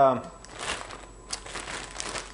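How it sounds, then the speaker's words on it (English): Plastic crinkling and rustling, a brief voice at the very start, then steady crisp crackles close by for a couple of seconds. "plastic bag sealed for freshness."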